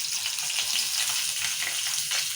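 Green chillies and onion frying in hot oil, a continuous crackling sizzle with small spluttering pops, close and moderately quiet.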